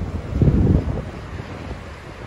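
Cold wind gusts along the street between Dilyara Aliyeva and Pervomayskaya streets, giving a low, buffeting rumble that peaks early and then eases off. No one is talking.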